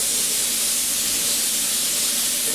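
A paint spray gun hisses steadily and close up during custom fabrication work on a Buick Roadmaster Coupe pull handle, a continuous broadband spray with no pauses and no voices.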